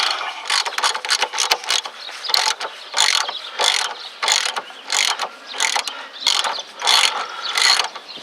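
A socket wrench ratchets on a tie rod end nut on a Dodge Neon, an 18 mm deep well socket in use: loud, close clicking in repeated bursts of turning with brief pauses between strokes, no talk.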